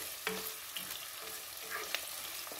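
Onions fry in a pan while being stirred, a steady close sizzle with a few light scraping and tapping utensil sounds over the hiss.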